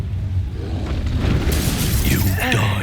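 Incendio fire spell cast in Hogwarts Legacy, a loud whooshing burst of flame with a crackling shattering edge surging midway through, over steady low rumbling battle noise; a voice briefly calls out near the end.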